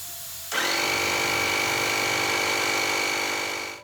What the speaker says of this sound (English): take my air compressor and just put it over the valve stem